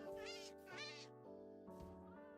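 A cat in the video game Minecraft meows several times in quick succession, close and clear, with no other sounds around it.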